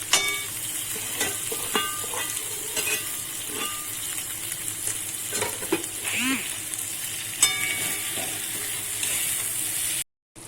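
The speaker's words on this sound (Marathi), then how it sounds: "मसाल्यामध्ये असे फिश टाकून घेतल्यानंतर 5 मिनिटं असं भाजून घ्यायचं" Small chadhani fish sizzle in spice masala on a hot tawa, a steady close hiss with occasional stirring scrapes that runs nearly unbroken before cutting off abruptly.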